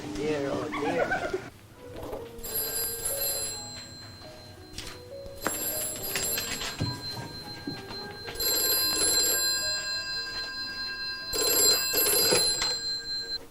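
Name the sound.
telephone ringing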